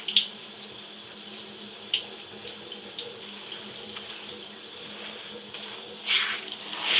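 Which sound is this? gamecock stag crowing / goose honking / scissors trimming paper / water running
water running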